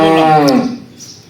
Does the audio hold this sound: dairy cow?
yes